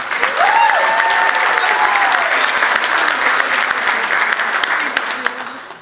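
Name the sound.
wedding guests applause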